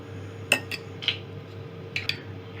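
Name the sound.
spoon mixing honey chicken sauce in bowl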